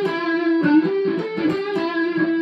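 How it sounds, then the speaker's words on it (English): Electric guitar with overdrive playing a slippery, sliding blues lick in an early-1970s style, a short run of bent and gliding notes, close and clear with no voice. "The next lick's the slippery kind of blues lick."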